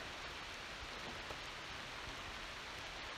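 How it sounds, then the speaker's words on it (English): Heavy rain pours steadily at a riverside campsite by the Jordan River, a dense, even wash of drops on surfaces, moderately faint and without talk. "It is decidedly raining now."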